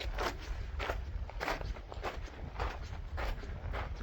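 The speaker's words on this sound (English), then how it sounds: "Walking down Monument Creek towards Granite Rapids." Steady hiking footsteps crunch on gravel and rock while walking down Monument Creek in the Grand Canyon, near and evenly paced at about two steps per second.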